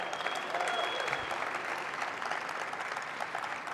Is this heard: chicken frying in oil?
no